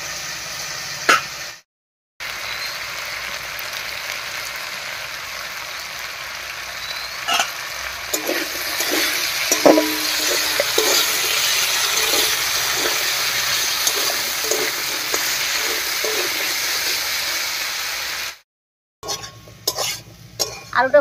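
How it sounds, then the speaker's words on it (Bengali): Potato pieces seasoned with salt and turmeric fry in oil in a pan, giving a steady, close sizzle. Occasional stirring scrapes and clinks sound over it, with brief pauses near the start and end. "আলুটা ভাজা হতে থাক"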